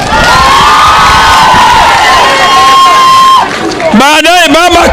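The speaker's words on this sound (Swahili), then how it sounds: "Makofi kwa baba." Large crowd at a political rally in Kibra, Nairobi, cheering and shouting loudly and continuously, with a high whistle held over the din before excited voices break out near the end.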